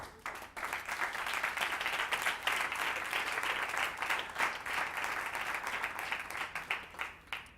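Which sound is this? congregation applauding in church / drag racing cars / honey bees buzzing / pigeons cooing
congregation applauding in church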